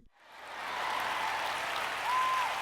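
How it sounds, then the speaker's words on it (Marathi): An audience at a sermon bursts into applause that swells within half a second and holds as a dense, steady clapping wash to the end. "आधीच्या 2 वेळेपेक्षा जरा कमीच वाजल्या टाळ्या"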